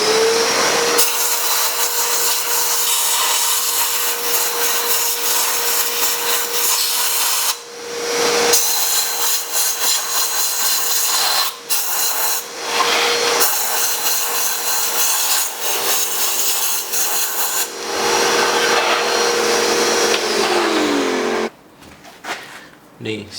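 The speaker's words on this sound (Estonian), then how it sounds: "Panen tolmuime käima ja siis lasen suruõhu otsaga siit." A vacuum cleaner roars steadily while a compressed-air nozzle hisses in bursts, cleaning carbon deposits from an Audi A8 3.2 FSI engine; loud and close, with brief pauses and someone speaking briefly near the end.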